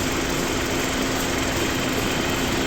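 A Hyundai Grandeur's engine runs at a steady idle with the air conditioner switched on, making a constant even hum and whir with no talking.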